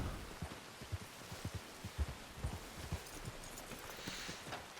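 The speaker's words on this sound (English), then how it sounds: "this rain is lovely" Steady video-game rain patter near water, with soft, irregular low thumps of drops, fairly quiet and continuous, no talking.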